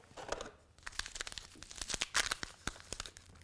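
Close, crisp crinkling and tearing of a small paper packet, a quick burst of rustles and rips with no voices.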